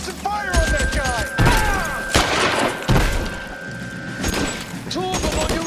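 Gunfire cracks in bursts through an L.A. Noire shootout, sharp broadband shots and thuds landing close and loud among shouted voices and a held tone.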